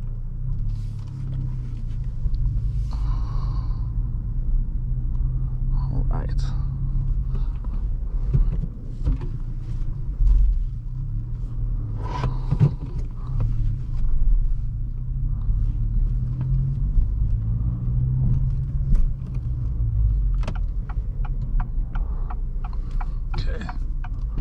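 An Acura Integra A-Spec drives along with a steady low engine rumble, fluctuating slightly as it moves, with occasional knocks and road noise layered over it.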